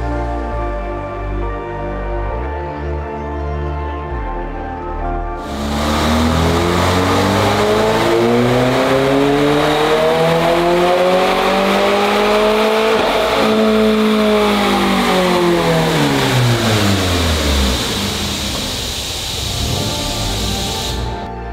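A big-turbo Subaru WRX on flex fuel idles on a dyno, then the engine revs hard in one long pull, climbing steadily in pitch with turbo whoosh before winding back down near the end. It is loud and close, with no talk.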